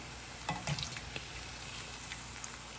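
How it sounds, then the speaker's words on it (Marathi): Small popcorn-like balls of sago mixture fry in oil over a medium flame, giving a quiet steady sizzle with a few soft pops and stirring clicks near the start. "हे छोट्या छोट्या आकाराचे पॉपकॉर्नसारखे हे मिश्रण तेलामध्ये टाकून घेऊया गॅस आपल्याला मीडियम फ्लेमवरतीच ठेवायचा आहे"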